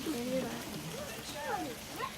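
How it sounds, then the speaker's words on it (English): Light rain falls outside in a soft steady hiss beneath a person talking. "You getting wet from the rain?"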